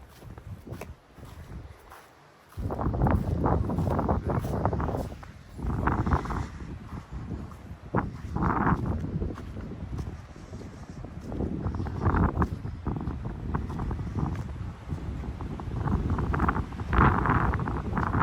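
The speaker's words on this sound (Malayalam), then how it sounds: "കാറ്റുണ്ട്." Steady wind at about 7,000 feet in Kodaikanal buffets the microphone, a continuous low rushing roar with gusty swells that picks up after a brief quieter start.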